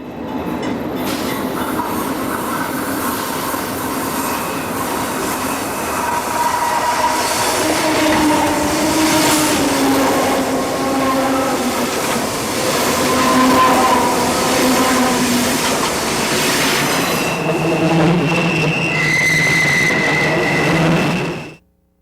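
A Union Pacific train rolls past on the Truss Bridge over Highway 70 in California's Feather River Canyon, 1996. The rumble and clatter of rail cars stays loud and steady throughout, with wheel squeals near the end before it cuts off.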